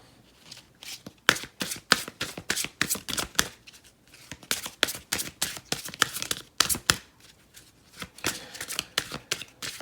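Oracle cards being shuffled by hand in a quiet room, a dense run of crisp riffling and flicking snaps that repeats in close bursts for the whole stretch with no talking.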